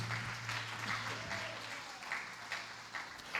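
A church congregation at a home worship service applauds God with a steady, moderately quiet patter of clapping over a low background hum, and no one speaks during it.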